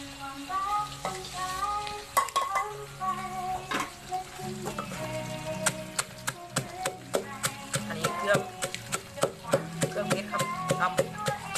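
Catfish frying in a pan with sugar added, steady close sizzling under repeated scraping and stirring clatters, with a voice talking at the start.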